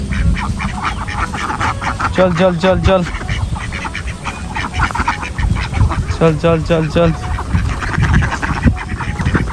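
A flock of ducks quacks in two short bursts of rapid, overlapping calls, close by, while a person repeatedly urges them on throughout.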